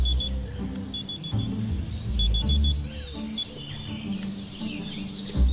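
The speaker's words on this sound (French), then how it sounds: "le son du clairon a des allures bien électroniques" An electronic alarm plays short, bright beeping bugle-like tones in bursts over a murmur of background noise and low rumbles.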